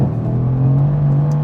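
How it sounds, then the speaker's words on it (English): Mercedes C63s AMG V8 engine accelerating, a loud, close, steady rumbling engine note with a sustained low drone and no talk over it. "You never get tired of the big boy V8,"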